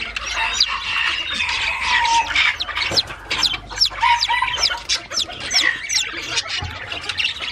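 Hens and their chicks on a farm raising purebred Sebright chickens, with steady overlapping clucking and high peeping from chicks throughout, fairly close and continuous with no talking.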